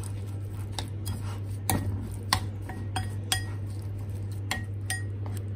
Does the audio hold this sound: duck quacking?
no